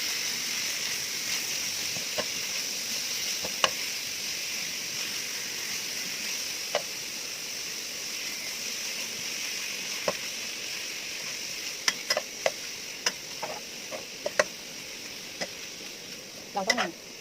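Pork belly frying in its own fat in a pan gives a continuous soft sizzle, punctuated by scattered sharp clicks and taps of a utensil against the pan, louder near the end.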